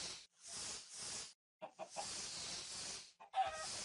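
A Minecraft chicken clucks in a few short, breathy bursts separated by brief gaps, close and moderately loud with no talking.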